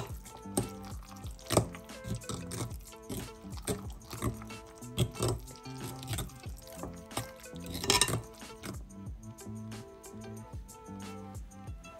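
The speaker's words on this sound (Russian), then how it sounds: "Добавляю сметану, вы можете добавить немножко йогурта, если у вас нет под рукой сметаны. Все это перемешиваю хорошенько." Sour cream is being stirred into batter in a bowl: soft wet sloshing and scraping strokes that come in uneven bursts, with a couple of sharper clinks of the utensil against the bowl, fairly quiet throughout.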